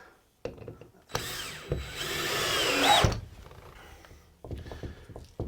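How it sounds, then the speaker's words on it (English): A power drill drives screws into a wall to hang a shelf, a loud continuous whirring burst of about two seconds with a rising pitch near the end, then quieter handling sounds and a few knocks. "So just get a couple of screws in to start with."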